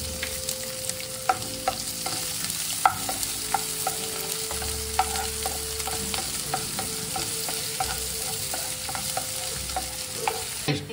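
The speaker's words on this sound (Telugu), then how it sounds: "కొంచెం జీలకర్ర, పచ్చి దోరగా వేగాక ముందుగా కట్ చేసుకున్న ఉల్లిపాయలు వేసుకోండి" Chopped onions and cumin frying in a pan for a pea curry, a continuous close sizzle broken by frequent spatula scrapes and stirring clicks, with no voices.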